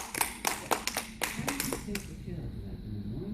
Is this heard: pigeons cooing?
no